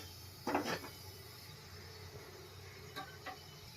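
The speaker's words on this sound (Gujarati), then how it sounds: "આપણે કુકર લેશું।" A pressure cooker is picked up and set down in a home kitchen, giving a close, muffled metallic clunk followed later by a couple of softer knocks against a quiet background.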